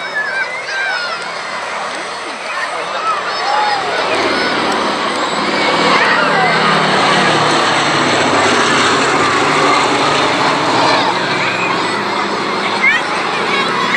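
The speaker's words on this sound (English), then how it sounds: "here is the B-17 Flying Fortress taking centre stage in front of us" A B-17 Flying Fortress propeller bomber passes overhead at an air show, a loud sustained broadband engine roar swelling and filling the whole clip, with crowd and commentary voices mixed underneath.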